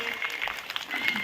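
Audience in a Hindi-language motivational talk on building a poverty-free society claps steadily, a dense continuous patter of many hands filling the short moment at moderate loudness with no voices over it.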